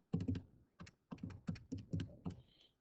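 Rapid bursts of button taps as numbers are keyed into a calculator, clustered in short irregular runs with brief pauses between, close and fairly quiet.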